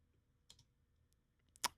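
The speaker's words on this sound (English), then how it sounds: "of course my spacebar doesn't want to work." Quiet clicks from a computer keyboard's spacebar being pressed at a music production desk: a soft tap followed a second later by one sharper, louder keystroke.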